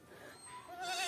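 A goat separated from its herd bleats on a winter outing, a wavering, rising cry that swells louder toward the end over faint outdoor background noise.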